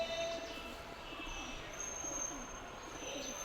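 Soft, repeated cooing from a pair of pigeons, a male and a female, in low rhythmic phrases over a faint background hum, fairly close, with a thin high tone running steadily beneath.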